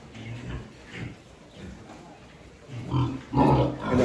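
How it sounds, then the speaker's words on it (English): Pigs grunt in a cement-floored hangar on a pig farm in Burundi, with several low, rough snorts close by that grow louder toward the end. "Another pig. Those are the pig."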